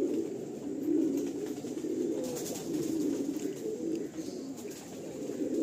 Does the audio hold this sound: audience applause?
no